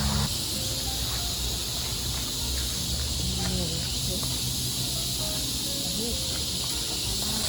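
Cicadas in a rural forest near rice paddies after rain, a constant high buzzing drone that never lets up, with faint scattered bird calls and other sounds in the background.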